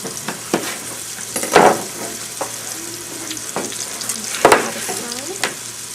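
Onions fry in a pan with a constant low sizzle, broken by occasional sharp spatula scrapes and clicks, and one or two brief louder bursts of stirring.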